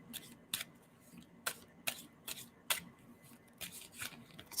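Tarot cards being shuffled by hand: a run of short, crisp riffling bursts at an uneven pace, close and fairly quiet against a faint low background hum.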